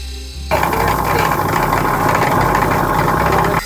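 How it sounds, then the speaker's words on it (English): Diamond-coated grinding wheel beveling the edge of a piece, a steady loud whirring grind that starts abruptly after a brief quiet moment and runs continuously close by. "how to use the diamond-coated grinding wheel to bevel the edge"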